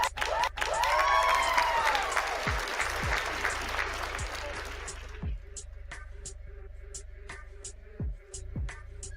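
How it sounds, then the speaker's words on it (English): A canned applause sound effect of clapping and cheering plays as a thank-you for a tip during a livestream. It is loud for about five seconds, then fades to scattered claps under talk. "Any tip coming in from Minty, I'm gonna give her some clap noise for that"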